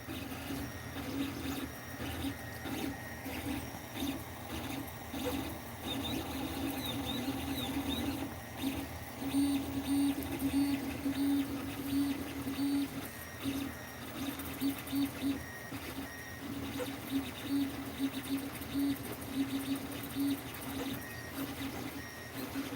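A 3D printer runs steadily while printing a Benchy boat model. Its stepper motors whine and hum continuously, and the head movements come in rapid, fluttering bursts over a constant mechanical drone, close and moderately loud.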